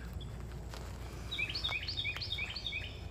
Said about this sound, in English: oh, can y'all hear the birds?